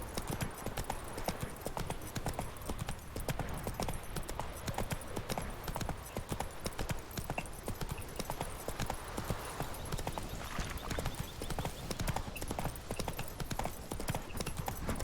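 A horse in The Witcher 3 trots across Skellige, its hooves clip-clopping in a brisk, even rhythm close by, with a steady background ambience and no talk over it.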